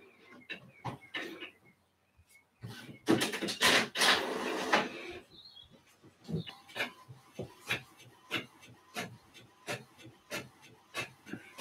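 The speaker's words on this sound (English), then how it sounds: "Oh, yeah, it is printing." Printer printing a page, with a burst of rolling feed noise followed by a long run of rhythmic mechanical clicks and shuttling strokes, close and moderately loud.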